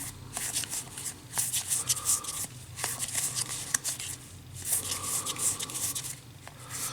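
Dune Imperium board game cards are handled close up, with repeated soft papery shuffles, slides and flicks in uneven bursts and a few sharper snaps, and no talking.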